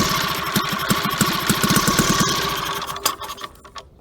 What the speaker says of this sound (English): the engine seems to have no problem with it. Nice flywheel effect for idle